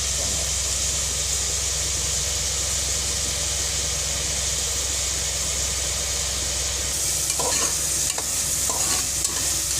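Onions and tomatoes sautéing in a pan for a fish curry, a loud steady sizzle with a constant hiss, then scraping and stirring toward the end, close up.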